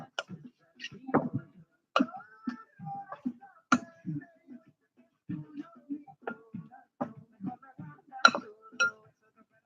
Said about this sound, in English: Go ahead and stir your ingredients.